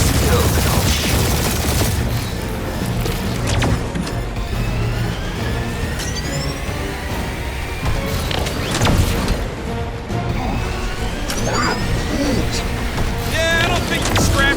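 Blaster gunfire in Marvel's Guardians of the Galaxy game pours out in a dense, continuous barrage of rapid shots mixed with explosions and busy battle effects, loud throughout, with character voices speaking over the fight.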